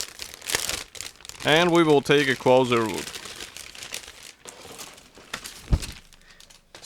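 Sealed plastic bag holding the sprues of an ICM 1/48 MH-60L Black Hawk model kit is opened, with crisp crinkling and rustling bursts close by, mixed with someone talking.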